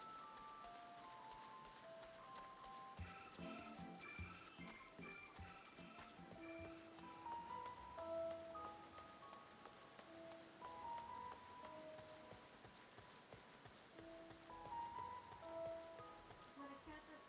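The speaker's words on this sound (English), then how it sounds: "it's fucking raining" Rain falls steadily in Final Fantasy XIV: Endwalker as a faint, even patter, overlaid by scattered chiming game tones and soft music-like notes that come and go.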